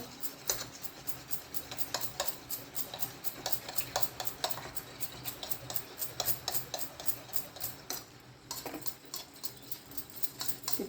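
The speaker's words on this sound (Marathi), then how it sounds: "टचकन फोडून अंड घ्यायचं त्याच्यात ताटात ओतायचं त्याच्यात थोडं मीठ टाकायचं आणि गरगर गरगर हलवायचं त्याला" Beaten egg with salt is whisked quickly in a plate, producing rapid, rhythmic scraping and tapping strokes that are close and fairly faint, with a brief pause near the end and no talk.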